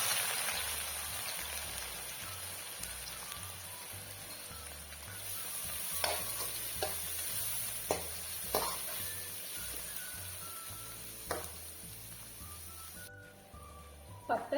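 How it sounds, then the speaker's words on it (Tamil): Onion and green chilli fry in oil with a gentle continuous sizzle and crackle, broken by occasional spatula taps and stirring scrapes, fairly faint and close. "வெங்காயம் பச்சை மிளகாய் போட்டுக்கலாங்க."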